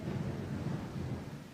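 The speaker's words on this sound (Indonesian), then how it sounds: "Bacaan ketika mendengar geluduk." Low, rolling rumble of distant thunder, quiet and sustained with soft rain-like texture, alone without any voices.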